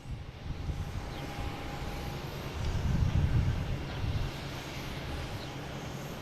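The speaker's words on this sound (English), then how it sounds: "And we got a little plane coming around." Aircraft circling at Boston Logan International Airport, heard as a steady broadband engine roar that swells midway through and then eases, steady and moderately distant, with no talking.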